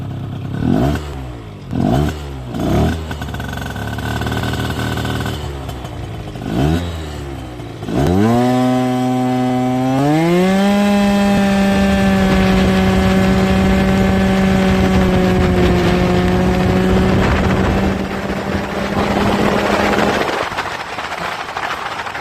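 A 70cc big bore scooter with an early-engaging clutch launches and accelerates hard, its two-stroke buzz climbing steeply in pitch and holding a loud high wail for about ten seconds after a few short revs, heard up close with no talking.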